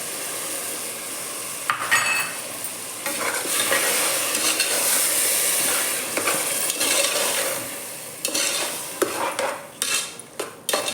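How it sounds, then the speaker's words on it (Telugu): Chopped tomato and spice masala fry in oil for tomato rice, giving a steady sizzle broken by scraping stirs of a spoon against the pan, close and fairly loud, with no talking. "ఆయిల్ మంచిగా పైకి వచ్చేటట్టు ఫ్రై చేయాలండి టమాటా"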